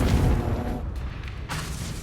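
A Confringo fire spell explosion in the video game Hogwarts Legacy, heard as a loud booming blast with a rumbling low tail over about two seconds and a second burst toward the end.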